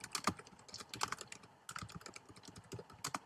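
Close, quiet typing on a computer keyboard, irregular clusters of crisp key clicks with a short pause in the middle and no voices.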